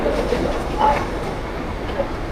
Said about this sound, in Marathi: Local arrived on platform number 1